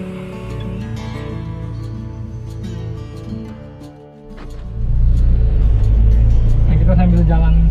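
An old Toyota Kijang drives along a road with its air conditioning running, a steady low engine rumble and road noise that swells louder partway through, close and inside the cabin, with someone talking over it.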